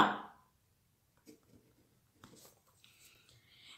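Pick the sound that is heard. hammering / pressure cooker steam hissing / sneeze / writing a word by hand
writing a word by hand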